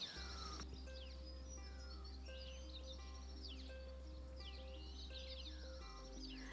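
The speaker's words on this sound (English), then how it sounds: "Just native Australian bushland and the sound of birds chattering." Several birds chirp and twitter in short bursts at a moderate distance in native Australian bushland, over a steady low hum.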